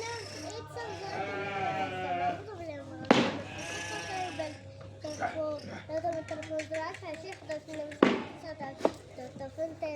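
Rahmani sheep in a pen bleat repeatedly while competing over feed, overlapping calls near and far with two loud sharp bleats, under ongoing talk and voices of children.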